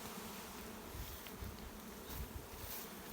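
A swarm of honey bees fills the air with a continuous, fairly faint buzzing drone that stays even from start to end, with no voices.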